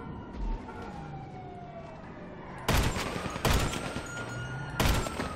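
Police car sirens wail in GTA 5 Online while bursts of gunfire crack out in three loud volleys, the sirens steady and faint beneath the shots.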